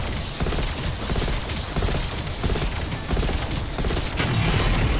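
Rapid, dense bursts of gunfire rattle almost continuously during a zombies Outbreak match in Call of Duty Black Ops Cold War, loud and close, with mechanical clatter mixed into the barrage.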